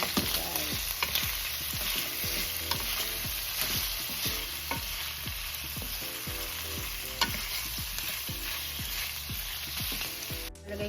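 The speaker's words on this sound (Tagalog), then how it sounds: "Gigisa ko lang siyang konti guys." Menudo ingredients sauté in a pan, giving a constant sizzle broken by regular spatula scrapes and knocks against the metal, close and steady throughout with no talk.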